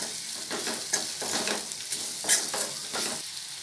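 Continuous sizzling of mango frying in hot oil, with repeated stirring scrapes at an even rhythm throughout, close and fairly loud.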